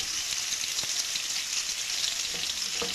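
Onions frying in a pan give a steady, dense sizzle with faint crackles, close and constant throughout.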